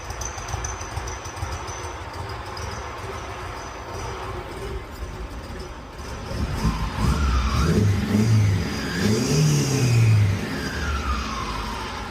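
Classic SAAB car engine idling steadily, then revving up in a few rising and falling pulls that grow louder toward the end, heard alone without talk.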